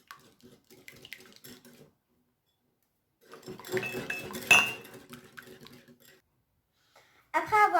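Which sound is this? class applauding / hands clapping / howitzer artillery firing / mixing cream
mixing cream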